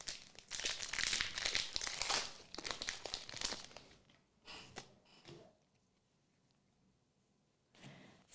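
Pokemon trading cards being shuffled by hand, close crisp riffling and flicking card noises in dense bursts for several seconds, then quieter gaps with a last brief shuffle near the end.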